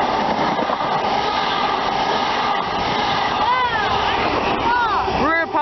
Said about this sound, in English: now we have a high speed train passing through